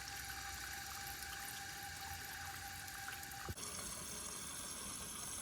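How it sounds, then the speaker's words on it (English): Water is rinsed from a 1956 Case Camel toilet tank down into the bowl, a steady faint trickling wash with a single soft knock partway through. "I always start with rinsing the tank out and rinsing it all into the bowl"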